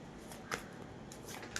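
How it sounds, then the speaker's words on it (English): Tarot cards are shuffled quietly in hand, with soft papery riffles and a few crisp flicks over a low hiss, close and faint, with no talking. "Now let's shuffle."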